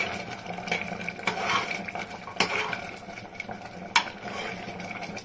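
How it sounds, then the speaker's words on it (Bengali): A metal lid lifted off a pot of boiled vegetable dal, with clinks and clatters of cookware and utensils over a low kitchen background, a few sharp knocks standing out close by. "হয়ে গেছে, এখন আমি ঢাকনাটা সরিয়ে দেব। পুরো টকবকিয়ে ফুটে গেছে"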